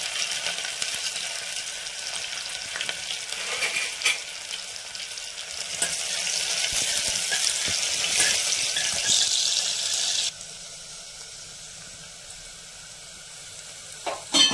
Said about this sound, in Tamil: வெங்காயம் நல்லா கோல்டன் ப்ரௌனாக நல்லா வதங்கணும்